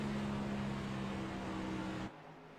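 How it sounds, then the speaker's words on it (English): A NASCAR Cup stock car in the iRacing sim at Texas screams at very high revs entering turn one, a dense, loud, steady engine roar that cuts off abruptly near the end. "Look at the revs on Kyle Milliken entering turn 1"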